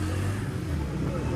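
A motorbike engine runs loud and close, a brief rough rumble.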